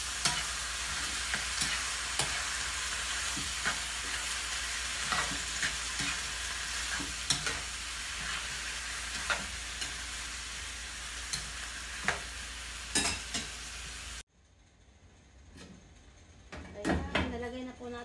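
Squid bought at San Fabian beach fries in a pan with chili, giving a loud, steady, close sizzle broken by scrapes and taps of stirring, then cutting off abruptly near the end to quieter scattered knocks.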